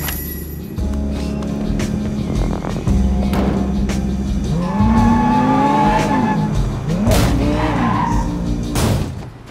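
Tires squeal and skid repeatedly through a street car race in the Sleeping Dogs video game, sliding whines rising and falling over a loud revving engine roar.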